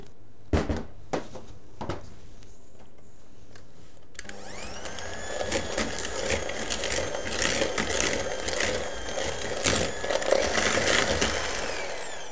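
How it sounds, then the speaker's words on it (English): Electric hand whisk creaming butter and sugar in a bowl for a gluten-free chocolate cake, starting after a few light knocks and running as a steady, loud whirring buzz with rattling against the bowl. "put my butter and sugar in another bowl and cream that together"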